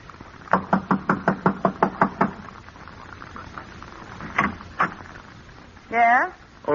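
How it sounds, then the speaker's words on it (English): Radio drama door knock: a quick series of about seven sharp raps on a door, then quieter sounds and two more knocks before a voice speaks. "I'll knock on the door and try it again."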